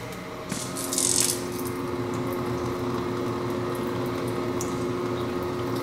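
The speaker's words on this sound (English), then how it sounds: "And the coolant comes on." Flood coolant pump on a CNC mill controlled by Mach 3 starts up, a steady liquid wash and hum with a brief rattling burst near the start, continuing evenly at moderate level.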